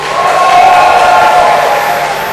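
An esports crowd at the SLTV LAN Finals, a Na`Vi versus iG match, cheers and shouts in a loud, dense roar that stays steady throughout the short burst.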